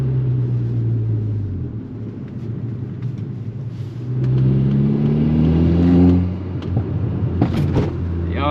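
A Stage 2 MK6 Golf R engine revs and pulls through the gears, its deep droning rumble rising in pitch, dropping at the shifts and climbing again, loud and close from inside the cabin.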